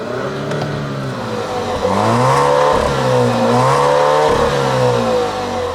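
A turbocharged 2-liter four-cylinder car engine with an 8-speed automatic revs loudly and steadily close by, its pitch climbing and dipping through a couple of rises.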